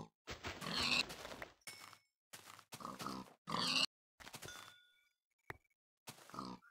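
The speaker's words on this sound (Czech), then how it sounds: "Tak teď zabijeme tady prasata." Minecraft pigs grunt as they are attacked and killed: a series of short, close squealing oinks broken by silent gaps, with faint clicks of the hits between them.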